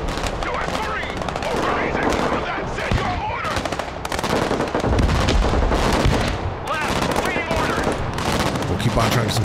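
Gunfire in the Broken Arrow video game, dense bursts of rapid shots and machine-gun rattle with booming reports, loud and nearly continuous, a voice speaking briefly over it.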